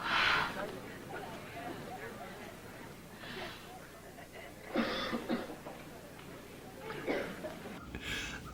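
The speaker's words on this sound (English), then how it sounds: "And the audience erupts in coughs." Several scattered coughs and throat clearings break out from different people, some loud and close, others fainter, with pauses between them.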